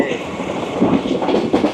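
Rawal Express passenger train running at high speed through a railway station, a steady rumbling rush with rhythmic wheel clatter building slightly toward the end.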